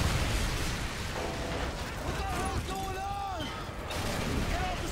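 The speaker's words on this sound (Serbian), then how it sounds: "Bukvalno raketa je eksplodirala iznad." A rocket explodes overhead in the video game Call of Duty Modern Warfare 2, a loud rumbling blast and dense crackle filling the whole stretch, with a voice talking over it.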